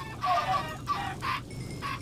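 A chicken in the Minecraft Thaumcraft mod clucks in short bursts, four clipped calls at moderate volume over a low background hum, with no talking.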